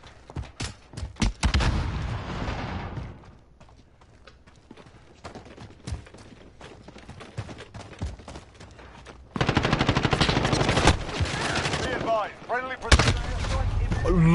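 Sniper rifle shots in Modern Warfare, sharp loud cracks scattered through busy game noise with bursts of other gunfire, the densest stretch coming near the end.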